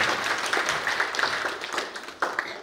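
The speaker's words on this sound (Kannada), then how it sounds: "ಅವ್ರಿಗೆ ಎಲ್ಲರೂ ಪರವಾಗಿ ಒಂದು ದೊಡ್ಡ ಚಪ್ಪಾಳೆ" Audience applause for an arriving leader at a public event, a short burst of dense, steady clapping that holds at an even level with a few sharper claps toward the end.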